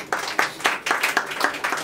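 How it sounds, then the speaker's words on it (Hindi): A small audience at a church Bible study gives a brief burst of hand clapping, about seven distinct claps in an uneven rhythm, close and moderately loud with no talk over it. "इनके लिए ताली हो जाए"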